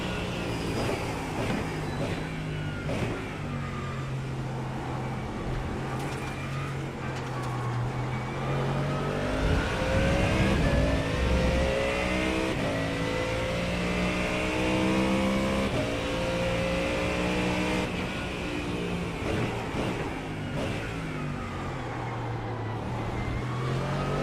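Mustang GT race car engine in the iRacing sim, droning steadily at high revs through a long pack-following stretch, pitch rising and falling gently with throttle as it holds position.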